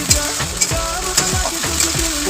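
Garlic and ginger paste frying in a hot pan for aloo dum, a dense sizzle punctuated by a few sharp spatula knocks and stirring strokes, close and fairly loud.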